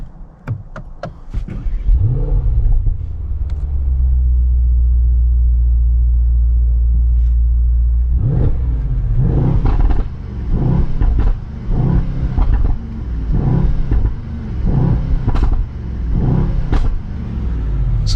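A 2020 Mercedes-AMG S 63 4MATIC+ sedan's 603-horsepower engine rumbles at a steady idle, then revs and accelerates with a deep, loud roar rising and falling repeatedly as the car drives, heard through an open rear window.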